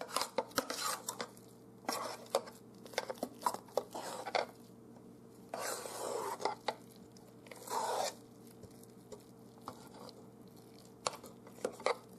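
Tamale filling of green chile, corn and cheese being stirred and scraped in a bowl, with soft intermittent clinks and scrapes of a utensil against the sides, quiet and close, no talking.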